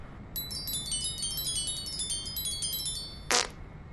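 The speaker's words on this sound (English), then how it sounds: "that fart noise is never a good sign" A cartoonish magic healing spell: a rapid run of bright, twinkling chime-like tones for about three seconds, followed by a short, loud fart noise that abruptly closes the effect.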